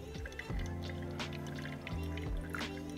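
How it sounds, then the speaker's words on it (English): Hot water poured over ground coffee in a V60 pour-over filter, a soft steady trickle and drip in a quiet kitchen with faint clinks, no speech. "continuing to pour in a circular motion, right up until that 150 gram mark."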